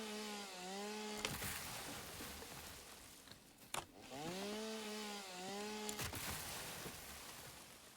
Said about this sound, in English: But the cool thing is, with the chainsaw, it actually clears out a much larger area.